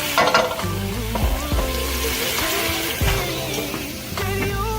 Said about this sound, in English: we'll let that cook a little more, let the fat renders off of it